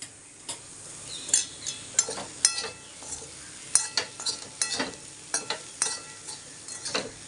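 Breadfruit stir fry cooked in coconut oil is stirred in a pan, a spoon scraping and clinking in quick irregular strokes over a soft sizzle, close and moderately loud with no talk.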